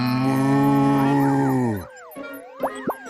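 A cartoon cow lets out a long, loud, sustained moo in the farm setting of a Garfield episode, then falls silent before a few short springy comic sound effects follow.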